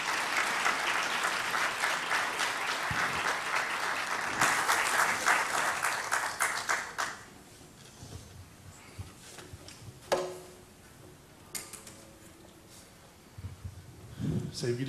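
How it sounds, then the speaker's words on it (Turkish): A concert audience applauds loudly and continuously to welcome violinist Cihat Aşkın on stage, then the clapping dies away into quiet hall ambience with a few scattered claps and small noises. "Ve alkışlarınızla Cihat hocamızı da davet ediyorum."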